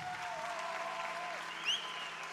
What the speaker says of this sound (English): Big round of applause for Miss Clara Raposo.